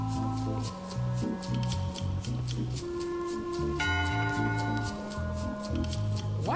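A ship's bell in the Return to Monkey Island video game strikes once, a single bright chime that rings out over steady, rhythmic game music.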